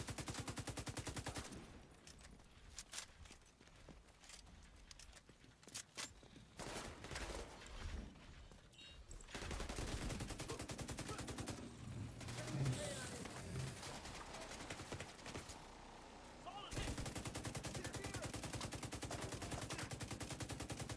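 Automatic and rapid gunfire bursts in The Division 2 hardcore Dark Zone, irregular volleys at moderate level, with a player talking over the shooting at times.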